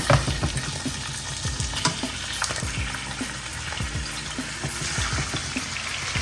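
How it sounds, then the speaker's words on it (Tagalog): Cooking oil sizzles and crackles steadily in a pan at close range, a dense frying hiss with scattered pops and stirring clatter, no voices. "Lagay lang muna tayo ng oil."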